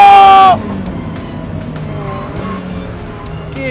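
A Ferrari F40 slides with a sharp, loud tire squeal that cuts off abruptly, followed by the engine's lower rumble as the car carries on.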